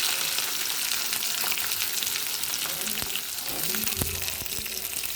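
Ginger and garlic fry in a pan for a Kannur-style lime curry, giving a steady, close hiss of sizzling oil with a few soft clinks of stirring.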